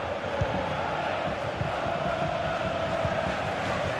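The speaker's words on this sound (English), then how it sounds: "Well, just listen to this crowd." A stadium crowd roars steadily through a football video game match, a dense, continuous wash of cheering and chanting heard alone without commentary, moderately loud and unbroken throughout.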